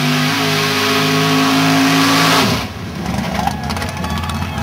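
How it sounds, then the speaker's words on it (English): An old Studebaker truck's engine holds a loud, steady rev close by, then cuts back sharply to a rougher, lower idle with some background noise. "You like that Studebaker? That's a pretty truck, isn't it?"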